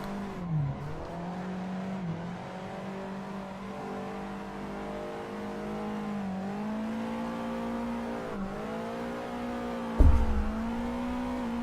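A car engine drones at steady revs with the handbrake held in the Assetto Corsa racing game, a continuous tonal hum that dips and recovers a few times before a sharp thump near the end, with no voices.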